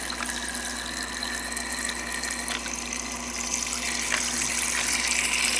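Cold tap water runs steadily into a pot for boiling eggs, a close, continuous hiss and splash with no break and no voices.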